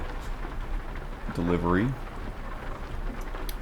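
Rain falls in the truck-driving game Euro Truck Simulator 2 during an evening drive, a steady soft hiss of patter heard from the cab under the low hum of the truck, while someone briefly speaks over it.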